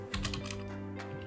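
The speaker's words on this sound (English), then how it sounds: "So we type in" Code being typed on a computer keyboard, a short quick burst of soft key clicks close by and fairly quiet, no voice over it.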